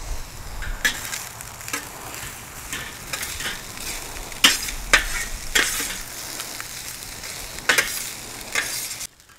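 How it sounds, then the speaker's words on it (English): Fried rice with garlic sizzles steadily on a Weber griddle, teppanyaki style, while a metal spatula stirs and scrapes in sharp, irregular clacks over the continuous frying hiss, close and clear with no talking. "now that our rice is cooking up really well, starting to see a few pieces of the rice that are kind of popping up a little bit"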